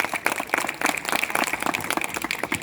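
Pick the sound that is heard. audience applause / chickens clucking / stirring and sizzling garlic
audience applause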